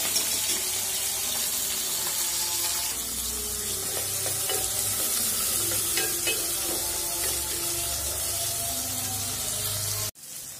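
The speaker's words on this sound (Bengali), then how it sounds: "এক পাশ বাজা হয়ে গেছে আমি উল্টা দিলাম মাছটা" Fish frying in oil in a pan makes a loud, continuous close-up sizzle that holds steady for about ten seconds and then cuts off abruptly.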